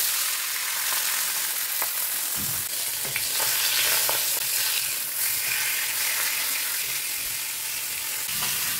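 Fish fries in a kadai with a continuous close sizzle and hiss, crackling throughout, and a few clinks and soft knocks of a utensil against the pan.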